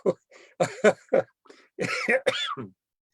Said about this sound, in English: I actually laughed and coughed just like I'm doing now